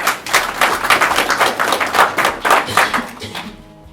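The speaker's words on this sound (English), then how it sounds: "Please give him a round of applause." Audience applause at a graduation ceremony, dense steady clapping from a crowd that carries on for a few seconds before dying away.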